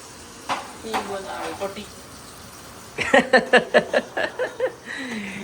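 Spices tempering in hot oil for kadhi crackle and sizzle in a home kitchen, with a burst of sharp pops and clinks in the second half, while voices talk over the first part.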